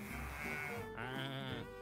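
Sheep bleat on a farm, with one wavering bleat sliding into a second, higher call, heard faintly and somewhat distant.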